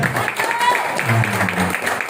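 A seminar audience claps for PTBS in a short, steady burst, with voices mixing into the applause throughout.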